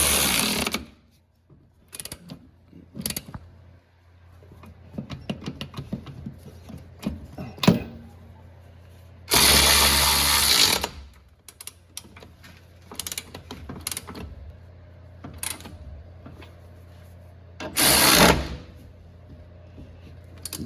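A pneumatic tool works a tie rod nut while coilovers go onto an EK hatchback, in several short loud bursts separated by quieter clicks and mechanical rattles from the work nearby, with no talking.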